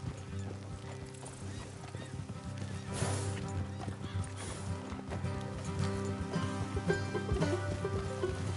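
Horses in the video game Red Dead Redemption 2 neigh and whinny over clopping hooves, with music and a voice partly underneath, fairly loud and busy throughout.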